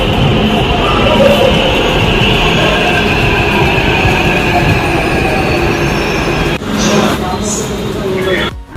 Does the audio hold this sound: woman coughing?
no